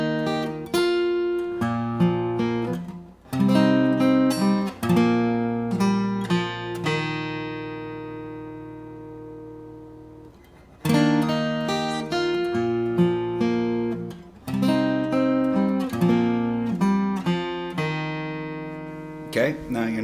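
Strummed acoustic guitar chords ring out loudly, each strum decaying before the next, with a few fresh strums and sustained chord sounds throughout.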